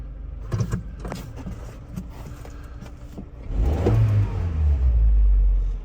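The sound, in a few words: 1995 Geo Tracker engine idling in gear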